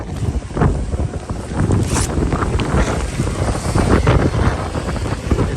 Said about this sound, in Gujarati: એટલો પવન સાથે વરસાદ છે કે છત્રી થરતી નથી.